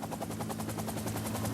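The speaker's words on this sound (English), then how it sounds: "Then the helicopter took off," Government helicopter lifting off from the edge of a soccer field above Medellin, rotor blades chopping in a steady rapid pulse with a loud, continuous engine drone close by.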